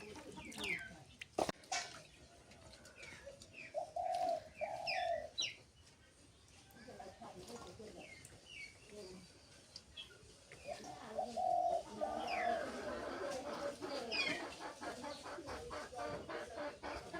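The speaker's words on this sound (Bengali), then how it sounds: "মা মুরগি মনে হয়" A mother hen clucks in short bursts alongside soft cooing and other bird calls, moderately close, with faint background noise between.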